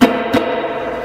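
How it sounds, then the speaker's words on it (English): A sharp plucked guitar note through a Boss digital delay pedal rings out with a second quick attack, then a sustained, slightly distorted tone decays with echoing repeats. "Boss digital delay, so you can hear that right now."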